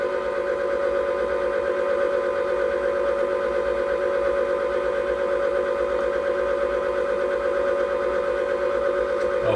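An electric mixer runs on slow, beating eggs into New York cheesecake batter in a bowl: a steady, droning whir with a rhythmic mechanical chatter, constant in level from start to finish with no talking.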